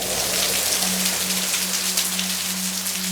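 Heavy subtropical monsoon rain falls steadily and loudly, a dense continuous patter on surfaces close by, with a low steady hum underneath and no voices.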